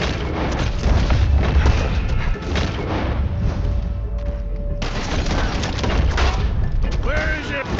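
Gunfire and blasts during a bank robbery shootout in Red Dead Redemption 2, a dense, continuous barrage of loud cracks and booms that barely lets up, with game characters shouting over the chaos.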